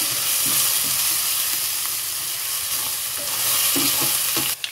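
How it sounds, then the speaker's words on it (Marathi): Ground coriander, cumin, red chili powder and turmeric sizzle and fry in hot oil in a pan, a loud steady hiss broken by a few scraping stirs, ending with a brief clatter. "हे आपला मसाला, धने पावडर, जिरे पावडर, लाल तिखट, हळद, हे चांगलं आपण परतून घ्यायचं।"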